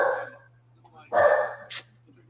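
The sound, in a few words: dog barking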